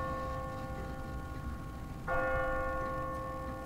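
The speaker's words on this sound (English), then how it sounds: "What kind of church bell goes off at 20 past the hour?" A church bell in The Walking Dead video game rings out once over a low, steady background hum, its clear tone ringing on and slowly fading.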